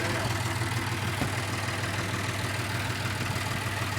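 Kubota tractor engine idling steadily, a close, even low rumble with no change in pace throughout.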